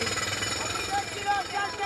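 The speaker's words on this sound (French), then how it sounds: "La musique des marteaux-piqueurs?" A jackhammer pounds continuously in a fast, steady rhythm, fairly close and loud, with a few faint tones over it.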